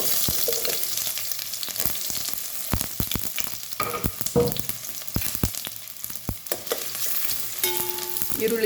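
Onions sizzle steadily in hot oil nearby, with sharp clicks and scrapes of a spoon stirring the pan.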